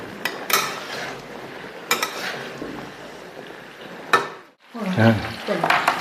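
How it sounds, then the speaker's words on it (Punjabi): Amla (Indian gooseberries) fry in a pan for pickle, with a close hissing sizzle broken by sharp scraping stirs, a brief pause, then more clattering stirring. "ਇਹ ਆਪਣੇ ਵੀ ਜਿਹੜੇ ਔਲੇ ਹਨ ਉਹ ਹੋ ਗਏ ਫਰਾਈ"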